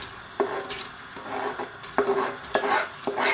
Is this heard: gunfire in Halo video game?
no